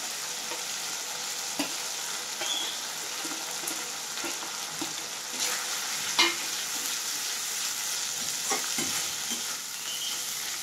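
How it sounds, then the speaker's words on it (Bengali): Large prawns sizzle lightly in a pan for a Bengali malai curry, a steady close frying hiss with a few stirring clinks and scrapes and no talking. "একটু এইভাবে আমি ভাজবো, হালকাই ভাজবো।"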